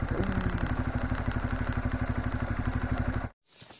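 Trail motorcycle idling on a dirt trail, a steady rapid clattering putter up close that cuts off abruptly near the end.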